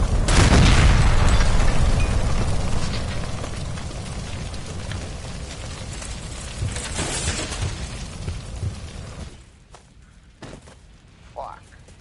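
A gas line explodes in L.A. Noire with a loud, heavy boom that rolls into a long crackling rumble and slowly fades, followed by a few footsteps and scattered impacts.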